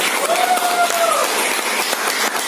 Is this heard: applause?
yes